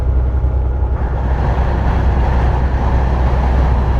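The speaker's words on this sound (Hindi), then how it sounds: "हवा की आवाज़ सुननी है आपने?" Wind noise fills the cab of a moving semi truck on a highway in Colorado, a loud, steady low roar and rumble with no talk.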